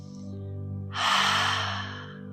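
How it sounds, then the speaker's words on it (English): A single slow ujjayi breath from Ashtanga yoga practice, an audible breathy rush of air lasting about a second, softly hissing and fading, over a faint steady background hum. "this is sometimes called noisy or loud breathing or even ocean breathing"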